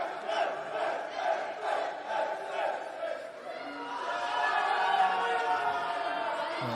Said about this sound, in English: volume of the Iranian and Turkish fans raising the intensity here